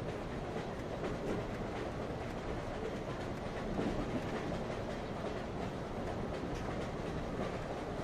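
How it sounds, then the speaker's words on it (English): A train rolls along the rails at night, a steady low rumble and hum with faint rhythmic clatter of wheels, heard continuously from inside without speech. "and resonance of the train are very soothing to you, making you even more sleepy."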